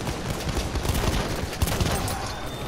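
Dense gunfire in a Battlefield 1 team deathmatch: loud, continuous rattling bursts of rapid shots with no break, mostly without talk.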